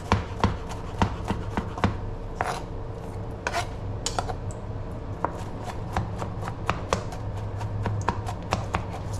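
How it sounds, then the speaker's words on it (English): A knife taps and scrapes rapidly on a cutting board, pureeing food for mojo picon in a steady run of close, crisp chops and rasping strokes. "I'm just going to puree it with the knife"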